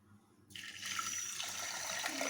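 Water pours steadily into a metal pressure cooker holding lentils, starting faint and swelling into a continuous splashing rush, heard alone at close range.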